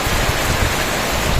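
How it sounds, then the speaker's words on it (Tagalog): Rain pours in a dense, steady hiss across the whole moment, heavy and close, during an intermittent storm with wind and lightning in a Philippine town; no voices are heard. "Dito sa amin ngayon, pasulpot-sulpot yung ulan."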